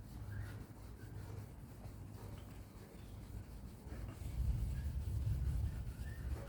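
Stained T-top glass scrubbed by hand in a steady, faint rubbing rhythm that grows slightly stronger toward the end, with no voices.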